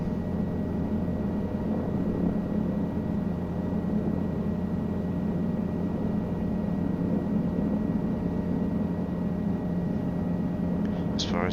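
A Guimbal Cabri G2 helicopter in Microsoft Flight Simulator holds a steady, dense rotor and turbine drone, loud and even from start to finish with no voices.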